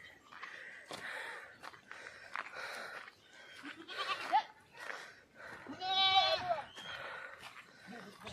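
Goats grazing in a Garhwal village hillside bleat repeatedly, with one long, wavering cry standing out near the end, while people talk faintly in the background.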